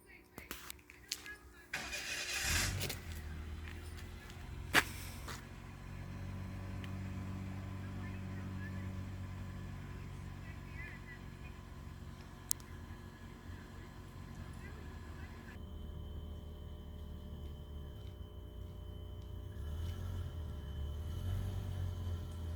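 A 1991 Ford Mustang LX with its original unmodified 4-cylinder engine starts, then settles into a low steady drone while driving, heard from inside the car as people talk over it.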